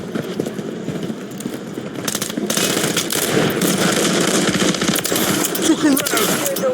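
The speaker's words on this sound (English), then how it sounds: "Throwing stun grenade." A stun grenade goes off during a military shooter video game, a sudden loud crackling burst that swells into sustained gunfire-like noise lasting several seconds, with a voice talking over the action.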